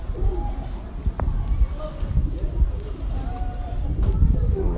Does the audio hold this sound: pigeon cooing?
yes